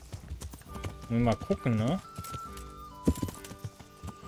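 Horse hooves clip-clop in the video game Kingdom Come: Deliverance, soft rhythmic steps heard beneath someone speaking German and game sounds, partly masked by his voice.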